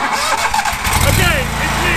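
A lawn mower kart engine cranks and catches, settling into a steady, loud mid-pitched running hum after about a second.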